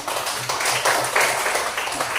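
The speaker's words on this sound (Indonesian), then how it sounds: "tepuk tangan untuk Karen" Students clapping hands for a classmate during a classroom lesson, a brief burst of fairly loud, fast clapping with no speech over it.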